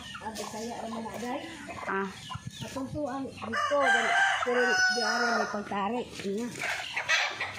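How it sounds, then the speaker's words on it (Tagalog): Several chickens cluck and crow close by in overlapping calls, a busy barnyard chorus with a short spoken exclamation. "Ay, manok. Mga manok sila dito."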